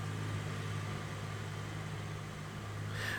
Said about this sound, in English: Do like that tractor.